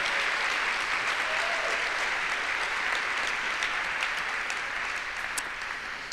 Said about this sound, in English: I just want to give a round of applause to the staff here of B'nai Jeshurun.